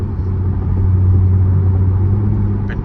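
A loud C7 Corvette on a late-night drive, its engine giving a steady low rumble from inside the car as it downshifts, with a faint click near the end.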